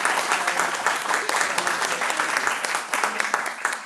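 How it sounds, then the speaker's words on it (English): An audience applauds an introduction at a lecture event, a dense, steady wash of clapping that fills the room and holds throughout without pause. "So can we give a round of applause?"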